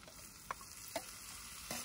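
Mustard greens tipped into a frying pan with ginger and garlic for a duck meat dish cooked outdoors in a field: a steady close sizzle with a few sharp utensil knocks and stirring scrapes.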